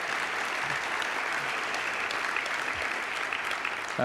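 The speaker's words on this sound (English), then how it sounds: "they deserve a round of applause" An audience applauds at a Michael Bloomberg event, a steady, even wash of clapping from a crowd that holds at a moderate level throughout.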